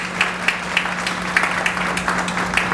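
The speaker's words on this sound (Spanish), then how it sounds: "le damos un fuerte aplauso al profesor Sergio Cabezas." An audience at an educational innovation conference applauds a speaker, a steady patter of claps with a few sharper beats poking through, over a constant low hum.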